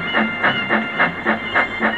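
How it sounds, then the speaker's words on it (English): An animated steam engine sets off hauling its train toward a station, loud rhythmic chuffs repeating about every quarter second over a steady hiss and rolling clatter, with no voices. "Whiff set off with his train to Elsbridge Station."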